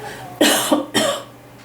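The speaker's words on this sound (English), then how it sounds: "I had to cough." Two harsh, close coughs in quick succession, loud and isolated, with a faint low hum in the background.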